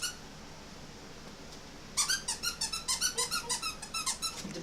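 Rapid high-pitched squeaks from a dog toy played with by six-week-old puppies, about a dozen in quick rhythmic succession, loud and close after a brief quiet start.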